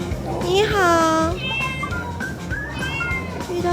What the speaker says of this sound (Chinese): 遇到一只小猫咪。